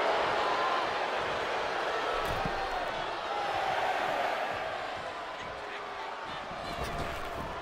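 A wrestling arena crowd in the video game WWE 2K23 keeps up a continuous, moderately loud roar, while a commentator talks over it.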